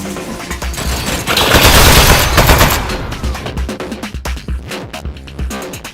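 Turret gunfire in the video game Aperture Desk Job: a loud, dense burst of rapid shots swells in the middle and then breaks into choppier bursts, with music or effects underneath.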